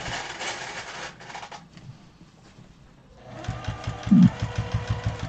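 A sewing machine stitches in the ditch on a large grocery tote bag. Quick, rhythmic stitching comes in two close bursts, separated by a quieter pause.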